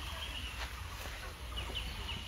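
Frizzle-breed chickens clucking in an enclosure at Binodia Park in Jessore: faint, soft clucks over a quiet outdoor background.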